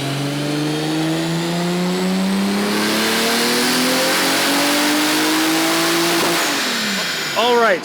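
A tuned 200,000-mile Toyota Supra engine revs up smoothly in a long rising sweep, loud and close, then drops off sharply before a short burst at the end.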